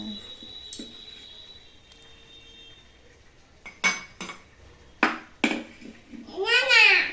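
Metal spoons and cutlery clink against dishes as tea is made at home, several sharp close clinks arriving in quick bursts, with a voice chattering briefly amid the clatter.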